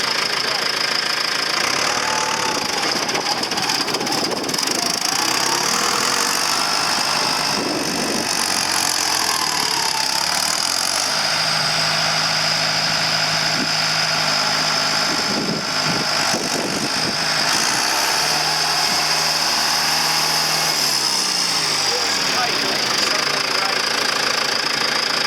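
John Deere 6200 tractor engine running with a steady mid-pitched drone and rhythmic knock, loud and continuous throughout, with people talking over it.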